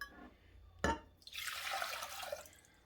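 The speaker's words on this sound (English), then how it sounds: "I'm first just going to add in my 2 cups of water." About two cups of water poured into a cooking pot in a home kitchen, a sharp clink first, then a steady splashing gush that runs for more than a second, close and fairly quiet, with no voices.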